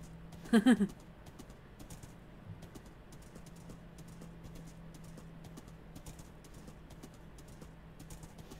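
A brief burst of horse hoof clip-clops in Minecraft near the start, then a quiet stretch of faint ticking and low background hum.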